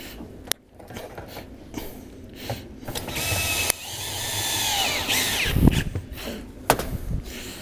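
A power drill whirs in short bursts amid clicking, ratcheting mechanical noises and scattered knocks, close by on a roofing site while valley panels are installed.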